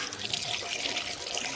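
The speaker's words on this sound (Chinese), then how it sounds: "这房间后面有水龙头，可以洗洗脸，这还是热水呢" Hot water runs from a tap behind a mountain lodge room on a Chinese sacred peak, a steady soft hiss of flowing water with no talk.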